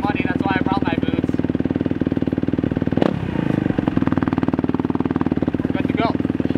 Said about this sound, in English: So the bike's all warmed up.